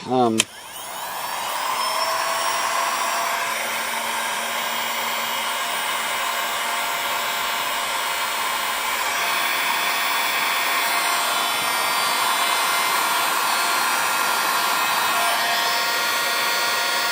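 A heat gun blasts hot air onto a Husqvarna 365–375 chainsaw engine case during bearing work, a loud continuous close whooshing drone after a brief click at the start, with someone talking at times over it.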